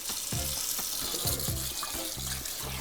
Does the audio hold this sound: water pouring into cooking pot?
yes